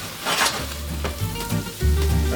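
Canned organic diced tomatoes hitting a hot pan for vodka sauce, a loud burst of sizzling and frying with stirring scrapes, close and continuous, with no talking.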